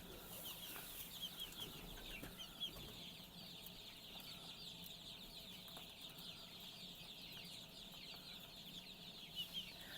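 Chicks on a small farm cluck softly over a steady rustling background, with a few scattered chirps and small movements nearby, no talking.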